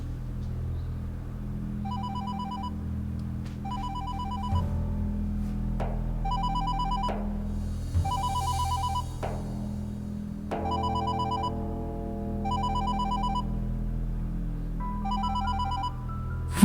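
A telephone rings repeatedly in a home, electronic double-burst chimes recurring at a steady rhythm over a low background drone, with brief clicks and a soft dramatic music bed underneath.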